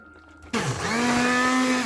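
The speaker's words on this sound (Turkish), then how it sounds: "Şöyle blenderdan geçireceğiz. İyice püre haline gelinceye kadar böyle ezeceğiz." A blender purees cooked apricots for Turkish apricot pestil, its motor kicking on abruptly and holding a loud, steady whirring whine close by.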